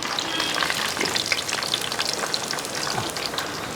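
Garlic, ginger and green chillies sizzle in hot coconut oil for a fish curry, a steady, close crackling fry with dense spattering and no talk.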